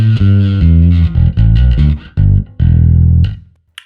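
Darkglass Microtubes X900 bass amp with the drive knob turned up for a tighter, filtered overdrive tone, playing a short riff of sustained distorted bass notes and brief stabs, loud and close with no talking.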